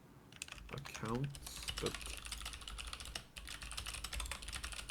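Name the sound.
typing on a computer keyboard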